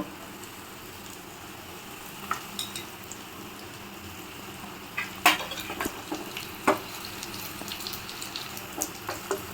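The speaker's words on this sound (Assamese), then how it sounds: "আপোনালোকে অকণমান ভাজি ল'ব, নহৰু আৰু জলকীয়াকেইটা।" Garlic and chillies fry in a wok with a steady, close sizzle, punctuated by a few sharp spatula scrapes and clicks as they are stirred. No one speaks.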